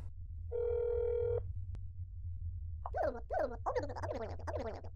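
A phone in the game That's Not My Neighbor gives one sustained dial-tone-like beep and a brief click before a voice comes on the line, with quiet low hum underneath.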